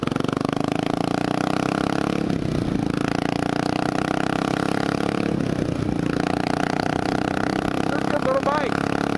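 A 2003 Buell Blast P3 motorcycle engine drones steadily throughout, with a rider talking over it and wind buffeting the mic.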